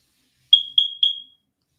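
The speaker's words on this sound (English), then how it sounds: "My smoke detector said, ding, ding, ding." Smoke detector chirping for a low battery, three quick high-pitched beeps in a row, loud and close against silence.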